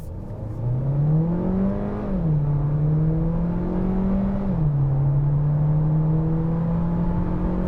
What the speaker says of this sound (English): Let's just accelerate it out.